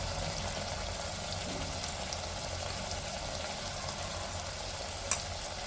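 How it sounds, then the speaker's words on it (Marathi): Spices for chicken sukka sauté in hot oil with a steady, continuous sizzle and crackle, broken by a single light clink of a utensil near the end. "आणि हे आता मसाले छान मी परतून घेणार आहे। हे छान असे तेलामध्ये"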